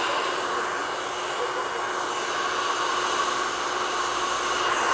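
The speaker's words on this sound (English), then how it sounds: "I'm blow drying Courtney's hair too." A hair dryer on hot blows a client's hair dry in a barbershop after hours, a loud, steady, close whooshing roar that holds unbroken for the whole stretch with no talking.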